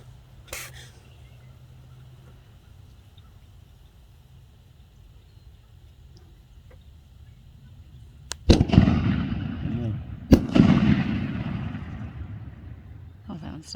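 Two firework shells launch from the ground one after another, each a sharp loud thump followed by a long crackling, rumbling tail outdoors, after a quiet stretch with a faint hum.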